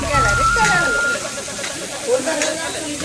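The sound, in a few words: stirring soya keema frying in oil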